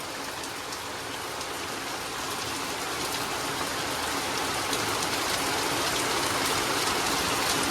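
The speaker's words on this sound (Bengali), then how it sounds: "এখন বৃষ্টিও পড়ছে হালকা ঝিরিঝিরি" Light drizzling rain falls steadily at dusk, a dense, even hiss of drops on surfaces that swells slightly louder toward the end, with no voices.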